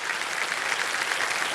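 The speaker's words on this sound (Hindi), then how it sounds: "खड़े होकर के ताली बजाई इन्होंने" Studio audience at a televised quiz show claps steadily, a dense continuous applause filling the room with no voices over it.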